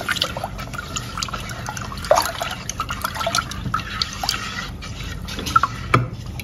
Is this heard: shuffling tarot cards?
no